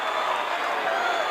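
A massive wrestling arena crowd at a 1982 Junkyard Dog versus Nick Bockwinkle title match, a steady, dense roar of cheering and noise that stays loud and even throughout.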